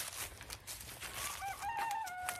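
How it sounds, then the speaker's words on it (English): Pastured roosters crowing in the background on a cold frosty farm morning, a couple of distinct cock-a-doodle-doo calls rising over outdoor noise and faint clucking, moderately distant. "You can hear our roosters in the background."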